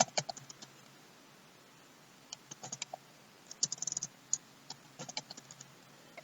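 Someone types a password on a computer keyboard, with short bursts of quiet, close key clicks separated by brief pauses.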